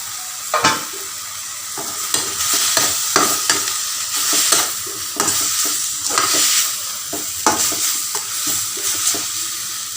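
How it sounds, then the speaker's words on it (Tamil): Drumstick leaves cook in a hot pan for a Tamil egg stir-fry, giving a steady close sizzle broken by repeated scraping stirs of a spatula against the metal. "முருங்கைக்கீரை வெந்துக்கிட்டு நல்லா வேகட்டும்."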